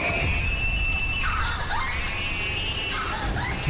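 A girl screams loudly and repeatedly inside her room, shrill cries rising and falling close by over a low rumbling background, with no talk over them.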